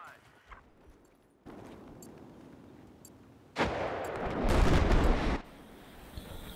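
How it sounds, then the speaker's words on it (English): Battlefield 4 gunfire on the Zavod map comes as a steady rattling barrage that suddenly swells into loud, dense automatic fire and blasts, then drops back, with players talking over it. "He's shooting at us."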